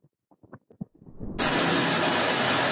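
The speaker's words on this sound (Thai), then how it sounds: "นี่คือเสียงฝนตกหนักๆแรงๆนะครับดูจากไมค์หัวกล้องก่อน" Heavy, hard rain is picked up by a camera-mounted microphone. A few faint short sounds come first, then a dense, loud hiss of rain starts abruptly and carries on steadily.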